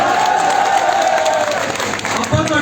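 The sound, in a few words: audience applause at a village program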